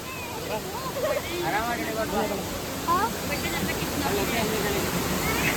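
Ukkada waterfall in the Bhadra forest roars as a steady, loud broadband rush of water that fills the whole scene, with several people talking over it throughout.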